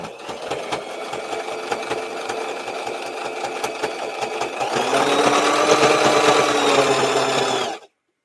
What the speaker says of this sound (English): I'm trying to stretch it as I sew.